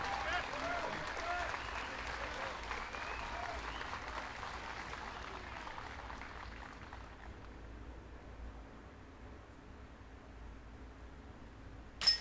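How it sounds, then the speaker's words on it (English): Distant outdoor crowd applause and cheering at a disc golf tournament, a steady wash that gradually fades away, with a sharp knock near the end. "Listen to that crowd."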